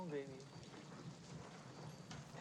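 Steady rain patter in a scene from the film Alien, at a soft, even level, with a brief voice-like tone at the start and a faint low rumble underneath.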